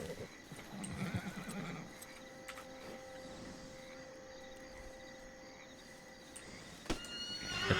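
A horse whinnies in Red Dead Redemption 2, a short neigh near the start over faint ambient game sound, followed by light hoof and movement noises.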